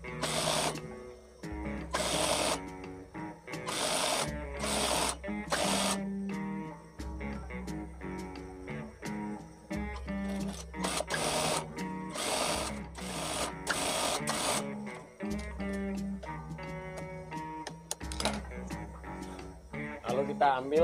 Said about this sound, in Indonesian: Kita jahit dulu sisi yang diklin ini dengan jarak 1